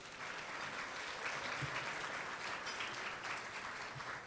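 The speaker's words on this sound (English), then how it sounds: "So give yourselves a round of applause." An audience at an annual awards ceremony applauds in a steady, even roar of many hands clapping. It sounds from a distance and carries on without a break.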